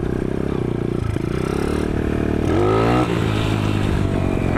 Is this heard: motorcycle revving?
yes